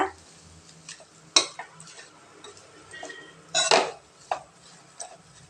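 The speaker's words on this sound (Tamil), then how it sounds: "இது அடுப்பை நிறுத்திட்டு சும்மா இந்த சூட்டுலேயே வதக்கினா போதுங்க" Coriander leaves stirred in a hot pan with the stove switched off, giving sparse metallic scrapes and clinks of a spatula against the pan, two sharper knocks standing out over a quiet background.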